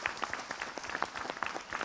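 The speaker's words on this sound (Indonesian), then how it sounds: "tepuk tangan dulu buat Ustadz Maulana." Studio audience applause during an Indonesian Islamic television talk show: a short, fairly quiet burst of scattered clapping under two seconds long, with individual hand claps standing out against a soft crowd wash.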